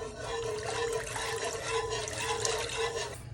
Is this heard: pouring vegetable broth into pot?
yes